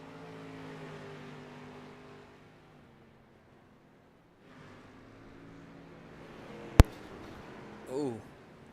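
StreetStock Series race cars drone at moderate distance, their engines fading out and then building again. A sharp crack and a brief burst of voices follow.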